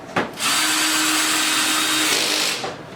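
A power driver tightens a bolt during assembly of Mainstays furniture: one close, loud whirring burst of about two seconds that starts abruptly after a brief knock and then winds down.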